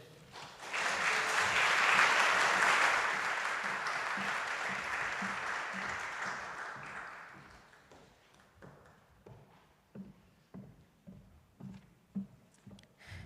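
An audience at a postgraduate welcoming event breaks into warm, sustained applause after a talk, loud and dense at first, then thinning out into scattered individual claps.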